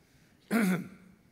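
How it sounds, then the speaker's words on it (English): One short, close throat clearing by a man partway through a sermon, a single rough vocal rasp lasting about a quarter second in a quiet room. "Doesn't it make you all want to clear your throat for me?"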